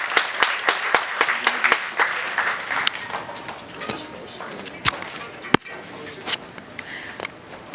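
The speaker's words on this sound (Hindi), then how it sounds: "आप सभी लोग जोरदार तालियां बजाएं" Audience at a laptop distribution ceremony clapping: a dense burst of hand claps at first that thins into scattered, sharp individual claps.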